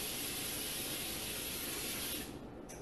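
Cooking oil spray from a can hisses onto a baking pan in one continuous, close burst for a couple of seconds, then cuts off.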